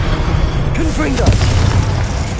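A Confringo blast from a duel in the Hogwarts Legacy video game booms out as a fiery explosion, with a sustained low rumble and crackling bursts layered under shouted spell incantations and battle noise.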